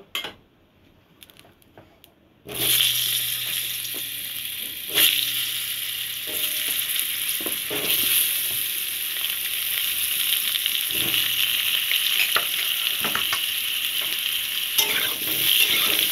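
Potatoes fry in leftover mustard oil in a wok, a loud, steady sizzle that bursts in after a quiet start and crackles on throughout, with occasional stirring and utensil clinks.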